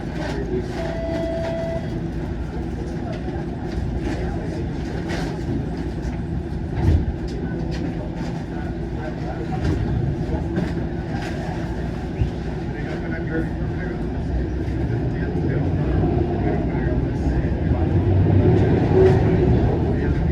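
A Toronto subway train rumbles along in a low, continuous roar with rattling and squeaks, heard from inside, while a voice announces the next stop, Yonge Street, College Station, over the din.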